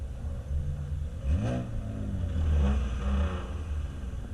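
A freshly built Volvo drift car engine revs up in third gear, a loud, steady rumble that swells as it pulls harder, with a deep mid-pitched drone and a louder surge partway through.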